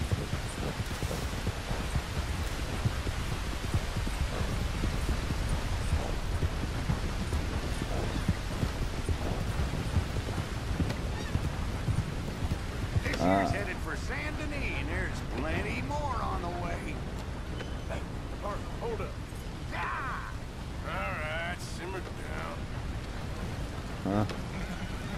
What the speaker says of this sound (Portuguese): essa chuva não vai passar